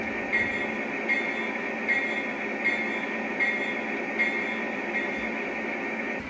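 Lionel Elgin, Joliet & Eastern SD38 model train bell ringing in a steady, even rhythm, about eight strikes over a constant mechanical hum, close and fairly quiet.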